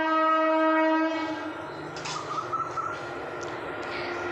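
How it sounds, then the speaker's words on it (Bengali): A train passes near a house: a loud, steady horn blast for about a second, then a broad rumbling wash of rail noise with faint clatter that carries on at a lower level. "আমাদের বাড়ি দিয়ে কি ট্রেনের আওয়াজ বেশ ভালোই আসে"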